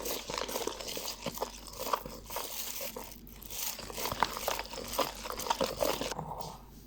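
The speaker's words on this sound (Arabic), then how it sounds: "هقلب بقى كويس جدا زي ما انتم شايفين كده" A spoon turns through thick chocolate sponge cake batter of flour and cocoa in a bowl, giving close, uneven wet scrapes and soft clicks against the bowl side in a loose, repeating rhythm.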